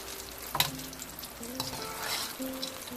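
Pakoras of cauliflower and potato fritters frying in oil over low-medium heat, a steady soft sizzle with a brief clatter near the start and faint intermittent tones in the background.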